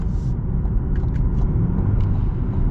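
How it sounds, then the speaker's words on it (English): A Cadillac CT4-V performance sedan rumbles in a low, steady drone from inside the cabin as it downshifts in manual mode, with faint brief blips and clicks over the road roar. "those downshifts bite really hard"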